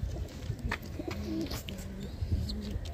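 Andhra racing pigeons from a champion line coo nearby in low, rolling murmurs, with faint chirps and soft background rustle over three seconds.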